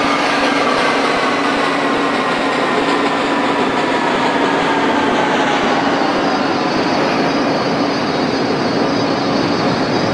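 A simulated New York subway E local train runs steadily in OpenBVE, giving a loud, continuous rumble with a faint whine and no talk.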